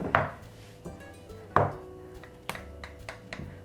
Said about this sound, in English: just before I put this in the oven, I'm gonna just poke holes in it so it bakes nicely for us